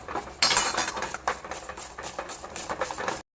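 A spoon stirring mava chikki mixture in a pan with the gas turned off, giving repeated scraping clinks of metal on metal in uneven bursts, close and fairly quiet, with no one speaking.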